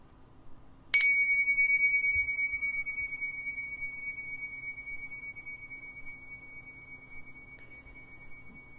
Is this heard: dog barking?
no